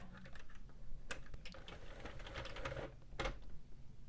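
A Sentro or Addi knitting machine cranked to the end of a row, producing irregular close plastic clicks and clattering needle taps in uneven bursts, with a couple of louder snaps along the way.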